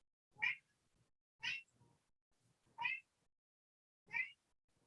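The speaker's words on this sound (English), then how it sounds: "I hope all of you can't hear a meow. It's actually my cat." A house cat meowing four times at a steady interval of about a second, each call clear and fairly close, with a quiet room around it.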